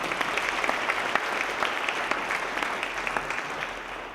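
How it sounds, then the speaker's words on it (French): A university event audience at the Fondation Palladio's ninth Rentrée Universitaire breaks into sustained applause, a thick, even patter of many hands clapping with a few sharper claps standing out, holding steady for about four seconds. "vous pouvez l'applaudir"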